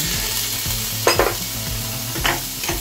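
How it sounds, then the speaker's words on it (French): Shrimp sauté in oil, sizzling steadily in a hot pan, with a few sharp scrapes and clinks of a utensil stirring them; no voices. "je vais sauter mes crevettes comme ça pendant quelques instants"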